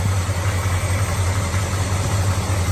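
A classic car idles at an outdoor car show; the engine holds a steady, close low rumble with a faint rhythmic pulse, running smoothly and alone without talk.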